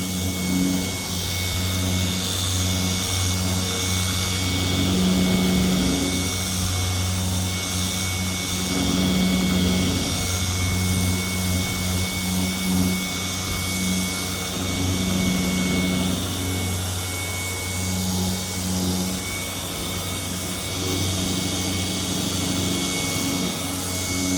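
Car paint polisher running during automotive paint correction at an auto detailing shop, a loud, steady motor whine and hum that holds for the whole stretch with slight swells in pitch, no talking.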